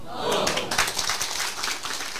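An audience at a political meeting claps together, a rough burst of many hands rising early and continuing at a steady level with some voices mixed in.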